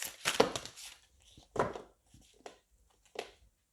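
Playing cards being shuffled and mixed by hand during a card reading, several brisk bursts of rustling and flicking separated by short pauses, close and clear.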